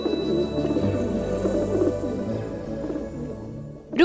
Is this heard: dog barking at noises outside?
no